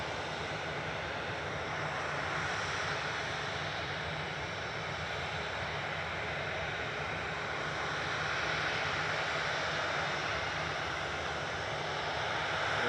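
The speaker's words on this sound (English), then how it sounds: "So departing next is Ryanair 5624 to Pisa" A Ryanair jet departs Manchester Airport, a steady broadband engine roar holding loud and unbroken throughout with a faint wind-like hiss, no voices present.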